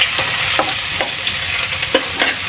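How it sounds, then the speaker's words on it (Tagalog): Ginger sizzles steadily in very hot oil in a home kitchen pan, a close, continuous frying hiss broken by a few soft scrapes of a spatula stirring through it, with no talking. "Ako po luya po muna po pagigisa."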